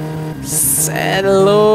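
Satsuma car engine in My Summer Car revving hard at high RPM, a loud, rising harmonic whine climbing steadily with a bright burst of noise partway through.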